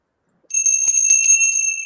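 A small bell rings in a quick jingling flurry, bright and close, with rapid repeated strikes blending into a continuous shimmering tone after a moment of silence.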